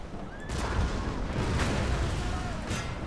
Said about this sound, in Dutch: Hup, artillerie vuurt zich helemaal erop los nu.